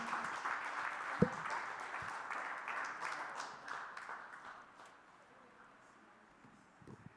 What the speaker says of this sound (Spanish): Puedes darle un aplauso al Señor con todo tu corazón